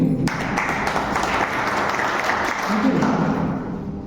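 Audience applause at a Republic Day event on the stage of a teacher training college, a steady burst of clapping from a crowd that holds for several seconds.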